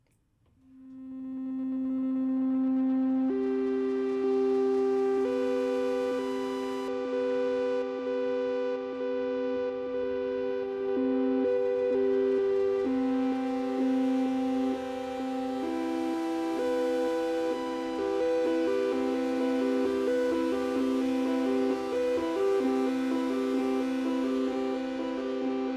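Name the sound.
Roland SE-02 monophonic synthesizer playing a pad patch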